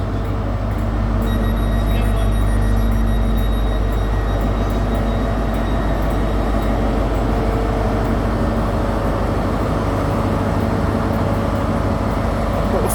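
A train departing a station in Dundee, Scotland, a loud, steady low rumble and mechanical drone that holds throughout, with faint high squeals and clanks from the wheels and carriages.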